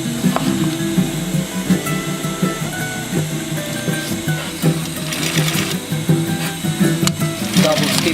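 A sewing machine runs continuously and loudly up close, its rapid needle chatter steady and unbroken as it double stitches a fabric bag.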